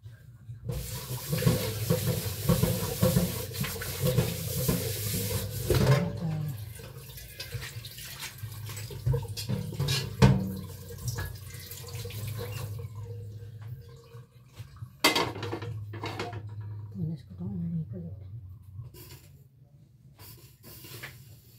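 Tap water runs steadily into a kitchen sink while food is rinsed for lunch, a continuous splashing rush with occasional louder surges and clatter.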